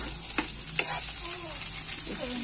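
Tomatoes sauté in a frying pan for a home-cooked vegetable dish, giving a steady bright sizzle with a few scraping stirs of a utensil across the pan.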